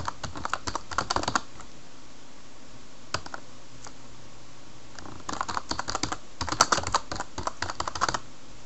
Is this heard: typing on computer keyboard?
yes